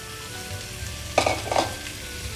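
Marinated boneless chicken pieces fry in a pan for a Mughlai chicken handi gravy, producing a continuous close sizzle with two short bursts of spatter and scraping midway.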